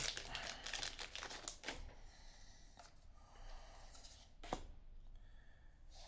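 Crinkly foil wrapper of a Pokémon card booster pack being torn open, with close, dense rustling in bursts and a sharp tearing crackle near the end, no talking.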